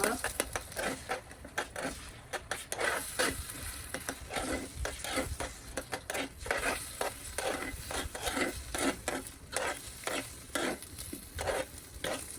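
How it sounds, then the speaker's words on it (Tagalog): An egg frying in a pan: a continuous crackling sizzle broken by rhythmic clinks and scrapes of a spatula, with a voice talking faintly over the cooking. "piniprito ko muna yung itlog, niluluto ko muna yung itlog talaga"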